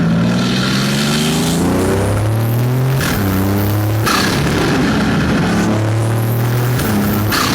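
A BMW M240i with a loud aftermarket exhaust launches hard, its engine note climbing through repeated rising sweeps with brief gaps at the gear changes, loud and close throughout.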